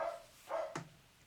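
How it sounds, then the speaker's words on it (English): A corgi barks indoors, two or three short sharp barks in quick succession at moderate distance, with no talking. "I can't go through a video without dogs barking, and dogs are barking."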